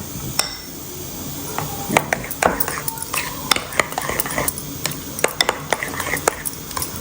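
A spoon clinks and scrapes against a bowl while shrikhand is stirred together with pistachio and saffron, giving irregular sharp taps and rattles close by, with a voice talking over it.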